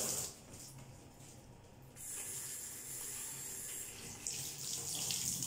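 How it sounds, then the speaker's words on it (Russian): A hotel bathroom shower at the Bella Begonia hotel in Nha Trang, Vietnam, left running, a faint, steady hiss of spraying water that swells and shifts slightly as it continues, with no voices. "Кто-то душ оставил открытым."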